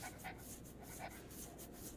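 A dog in the video game Dispatch pants softly and whimpers, faint and close against a low background hum.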